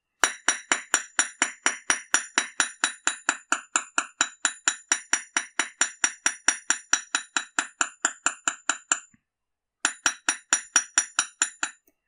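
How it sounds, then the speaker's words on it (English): Rapid, even metallic taps ring out as a hammer flattens the wire frame and wheels of a wire-wrapped cyclist pendant, a long steady run of bright clinks that pauses briefly before resuming. "I'm going to hammer the whole shape."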